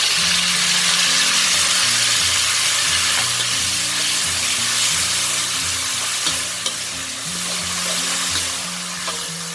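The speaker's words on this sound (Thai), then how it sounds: "หลังจากที่กระเทียมของเราเริ่มเหลืองแล้วค่ะ ให้ใส่ ซอนที่เราปรุงไว้แล้วนะลงไปเลย" Garlic and a prepared seasoning sauce fry loudly in a pan, a dense constant sizzle with stirring scrapes and a few sharper crackles, while soft background music plays underneath.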